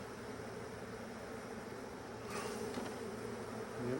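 Honeybees buzzing in a steady, dense drone at a hive in Alaska during an April queen replacement, loud and close throughout, swelling slightly toward the end.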